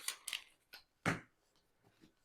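Board game cards from Kero being shuffled by hand, a few brisk papery riffles and slaps in quick bursts, close and fairly quiet with short pauses between.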